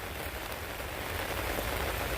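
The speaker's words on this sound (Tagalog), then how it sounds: "Umuulan eh oh." Steady rain falling outdoors, a faint, even hiss of drops on surfaces with no voices.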